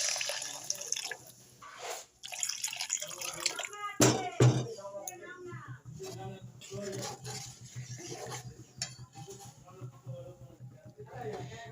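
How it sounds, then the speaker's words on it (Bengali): Water poured into a pan of mustard prawn curry with green chillies, a splashing pour with dripping, close and fairly quiet, while a voice talks over it. "এবার আমরা এতে পরিমাণ মতো জল দিয়ে দেবো।"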